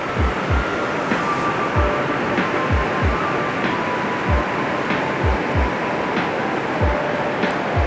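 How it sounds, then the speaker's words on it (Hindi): The Panjkora river in Upper Dir flowing steadily, a continuous loud rushing wash of water with repeated low thumps and rumbles running through it. "ये दरिया पंचकोड़ा है"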